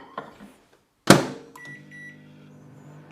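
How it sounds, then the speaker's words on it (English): A microwave oven door thuds shut, then a few short beeps sound and the oven starts running with a low steady hum, close by and moderately loud. "Let me put this in the microwave first while we're talking."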